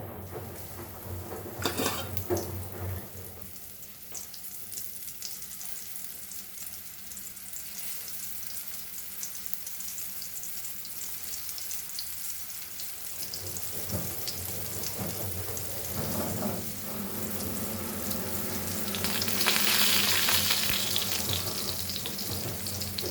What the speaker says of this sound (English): And on low flame I am frying this.